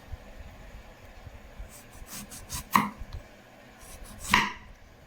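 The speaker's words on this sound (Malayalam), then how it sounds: "ഇതുപോലെ ഇത്ര കനത്തിൽ ഇതുപോലെ അരിഞ്ഞെടുക്കാം" A knife chopping eggplant into thick slices, a few separate sharp cuts against a board spaced about a second or more apart, with faint kitchen noise between them.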